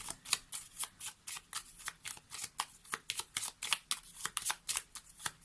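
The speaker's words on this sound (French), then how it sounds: "je vais prendre une seconde carte." Tarot cards shuffled close up in rapid, crisp riffling bursts, a quick run of papery flicks with a soft rhythm and no talking.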